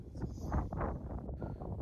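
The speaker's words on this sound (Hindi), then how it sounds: "बहुत ही तेज़ हवा चल रही है" Strong wind blows through the high desert on a rough dirt road between Hanle and Umling La, gusting and rumbling loudly against the microphone in a steady roar with no voices.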